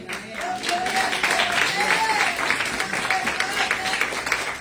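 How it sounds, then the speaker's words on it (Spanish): A church congregation claps loudly in praise of Christ during a sermon, steady dense applause that holds throughout, with a voice speaking or calling out over it. "Aplauda a Cristo si puede, fuerte."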